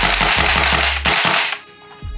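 Semi-automatic shots from a VFC PSG-1 airsoft rifle, a quick run of about six sharp cracks fired as fast as the trigger is pulled, loud and close, followed by a brief pause and one more shot.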